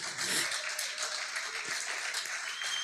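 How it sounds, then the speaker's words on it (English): Audience applause at an awards event honouring young women leaders, a continuous wash of many hands clapping at moderate volume, fairly even for the whole stretch. "I want us to give a round of applause to each and every fierce woman who is in this audience."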